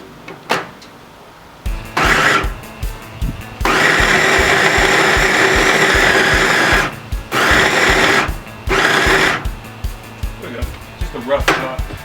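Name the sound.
Ninja food processor chopping bacon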